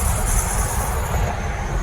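Worn car brakes squeal on a road during a drive, a thin, steady high-pitched whine sitting over loud, continuous engine and road rumble for the whole stretch, with no one talking.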